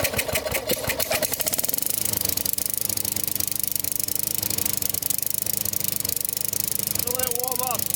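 A vintage Tecumseh-powered Craftsman push mower engine runs after a carburetor cleanup, a loud rapid chugging putter close by that stays steady, with a voice speaking near the end.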